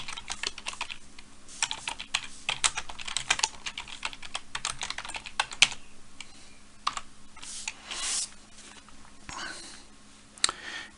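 Fast bursts of clicking keystrokes on a computer keyboard, close and clear, with short pauses between runs and a couple of brief breaths in the gaps.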